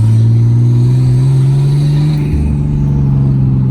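Nissan R34 Skyline sedan with a turbo conversion driving on a test run, its engine droning loud and close, pitch climbing steadily under acceleration before a brief dip and recovery as it pulls on.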